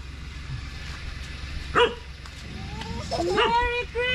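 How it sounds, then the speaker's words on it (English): On a farm in the Philippines, a cranky dog gives a few short, close yips and barks with a slight whimper. People talk loudly over and between the barks. "He's a cranky dog."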